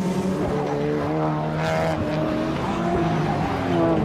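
Race cars in the Supercar Challenge at Zandvoort, including Seats, a white BMW, a black Audi and a white Lotus, run side by side. Engines roar loud and continuous with shifting pitch, under commentary.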